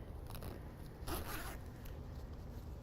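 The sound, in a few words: zipper being zipped up on a fabric pouch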